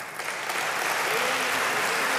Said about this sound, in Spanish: donde recibió un aplauso el ministro